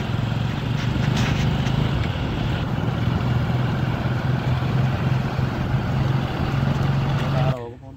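A John Deere 5105 four-wheel-drive diesel tractor engine runs at a steady low idle-like drone throughout, close and continuous with some wind noise, then cuts off abruptly near the end.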